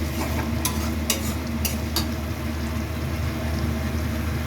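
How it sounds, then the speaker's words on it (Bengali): Spice masala fries in oil in a wok, a continuous dense hiss under a few sharp clicks and scrapes of the stirring spatula; no one talks. "দেখো বন্ধুরা, এই কড়াই তুলে নিয়েছি, মশলাটা তেল ছেড়ে"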